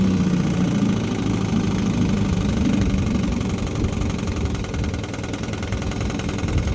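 A 1960 Evinrude Fisherman 5.5 hp outboard motor idles steadily on a cold day at a pond, giving a continuous low, rumbling, slightly knocking drone close by, with no talk.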